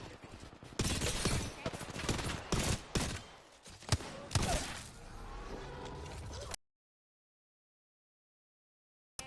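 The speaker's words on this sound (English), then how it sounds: "Enemies are shooting at me." Rapid gunfire from the video game Apex Legends crackles in dense bursts of overlapping shots and thuds for several seconds, then cuts off abruptly into silence.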